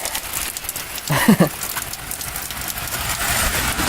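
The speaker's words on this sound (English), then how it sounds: "hopefully if it stops raining" Steady rain patters continuously on a surface, with a brief louder knock partway through.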